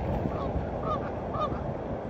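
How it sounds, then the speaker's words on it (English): Ducks out in winter give a few honking, nasal calls over a constant outdoor rush, the calls spaced about half a second apart. "Even in the winter, ducks have fun."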